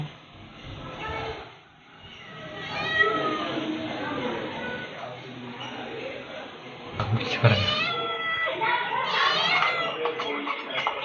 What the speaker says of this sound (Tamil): எங்க பூனை குட்டி வந்துருக்கு.